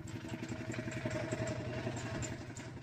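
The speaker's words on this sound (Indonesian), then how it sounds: "terlihat aktivitas para petani yang sedang mengolah sawah yang menggunakan traktor" Tractor engine working a rice paddy in a Sumedang farming village, a steady clattering mid-pitched chug running continuously at moderate distance with no talk.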